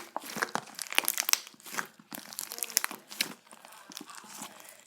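Crunchy, tough slime is squished and kneaded by hand, giving close, quiet crackling and crinkling pops in irregular bursts.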